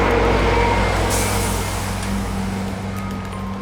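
A bus passes on a suburban road, its engine droning steadily with a short hiss of air brakes partway through, loud and close before easing off.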